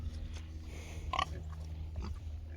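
Pigs on a farm, commercial cross sows and a young piglet, giving low soft grunts and a sharper squeal-like call in the middle, fairly faint over a steady low hum.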